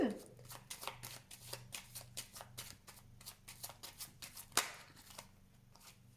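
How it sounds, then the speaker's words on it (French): A tarot deck is shuffled and cut by hand, producing a rapid run of crisp card flicks and riffles with a sharper snap near the end, close and clear over a low steady hum. "je vais faire une coupe avec le tarot que j'utilise pour les consultations prédictives"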